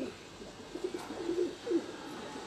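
Soft, low cooing from Sialkoti pigeons on a rooftop rises in a few rolling phrases over a steady hiss, moderately close and unaccompanied by voices.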